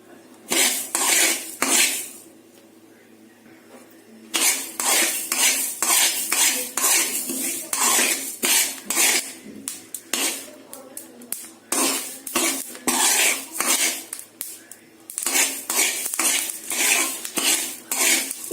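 Flax seeds roast in a pan, giving dense bursts of sharp crackling and metallic scraping in quick irregular clusters, loud and close, with a brief lull near the start.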